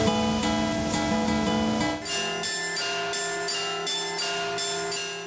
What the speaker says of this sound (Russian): Также просто играть уже не на тонких струнах, а многотонных церковных колоколах.